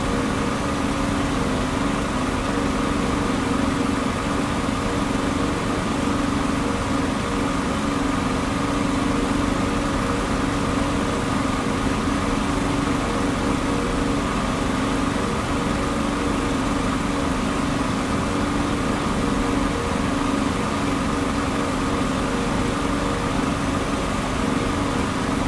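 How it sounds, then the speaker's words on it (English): A Spitfire's Merlin engine in the DCS flight game drones continuously at a steady, even pitch for the whole stretch, with no pauses or talk. "Can't push the engine harder."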